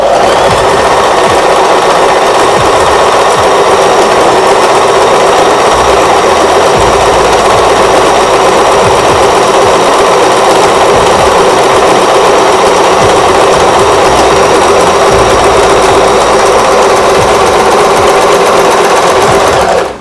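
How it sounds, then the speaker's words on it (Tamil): A Singer Start 1306 sewing machine runs zigzag stitches in one loud, continuous, evenly paced whir that lasts the full twenty seconds, heard up close with no talking. "இப்போ ஜிக்ஸாக் மாடல்ல ஃபர்ஸ்ட் ஸ்டிச் போட போறேன்."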